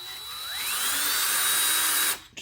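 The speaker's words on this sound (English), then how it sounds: "I'm just going to kind of mark it with this drill bit." A drill bit spins up and bites into a metal highway peg bracket on a Harley-Davidson Sportster, whining steadily at close range with a rising pitch, then cuts off abruptly near the end.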